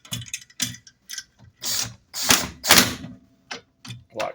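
A hand ratchet running down lug nuts to secure a fender well roller to a car's wheel hub, sounding as bursts of sharp clicking in a stop-start rhythm, close and clear with short pauses between runs.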